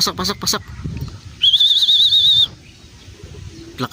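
A racing pigeon's wings flap in a quick burst as it arrives, then a clear sustained whistle-like tone follows, with faint background murmur around it.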